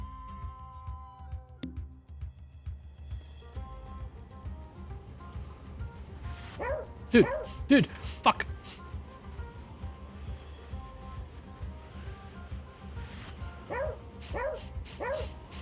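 A dog in a video game barks and yips in short clustered bursts, some whimpering, over a low steady game ambience, with a man briefly swearing.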